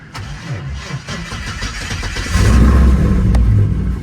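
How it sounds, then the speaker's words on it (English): A Lexus with a swapped 5.3 LS V8 cranks with a rhythmic churning for about two seconds, then fires and settles into a loud, rumbling idle close by. "I haven't started this car in months."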